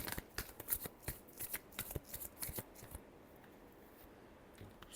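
Tarot cards are riffled in a quick shuffle with crisp, rapid flicks and snaps for about three seconds. A faint, quiet stretch follows.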